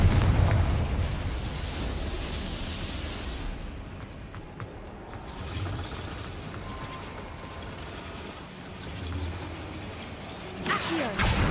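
A Confringo blasting spell explodes in a wizarding video game, a long heavy rumbling blast with crackling debris that surges, settles and then flares again with a sharp burst near the end.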